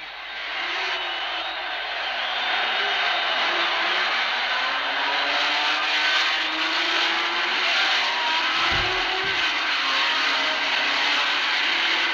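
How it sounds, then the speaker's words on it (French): Ferrari race cars and the rest of the field starting the 1964 Le Mans 24 Hours, a broad continuous engine roar from many cars filling the whole stretch, steady and loud, with a couple of brief low thumps near the end. "16h pile, ils sont partis et le plus rapide sera le Mexicain Pedro Rodriguez sur sa Ferrari."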